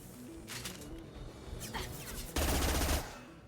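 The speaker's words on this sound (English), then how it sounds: "I got a new machine gun." Machine gun fire from Mass Effect 2, short bursts of shots that end in a loud, dense volley of rapid fire lasting under a second.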